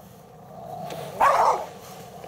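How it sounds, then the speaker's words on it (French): Outdoors, a dog gives one short, sharp bark at middle distance, standing out against a quiet background with faint rustling around it. "on entend bien des feuilles qui craquent et un chien aboyer"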